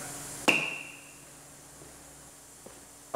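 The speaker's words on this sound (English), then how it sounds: "That's the wrong hammer for this job." A single hard hammer strike on metal during a brake job on a 2017 GMC Terrain, a loud ringing clang that hums away over about half a second, then quiet with a faint tap and another knock at the end.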